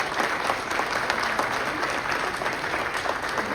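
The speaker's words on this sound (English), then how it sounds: "Give her a round of applause for everything she does." Steady applause from a room full of people at a union general assembly, sustained clapping throughout with no pauses.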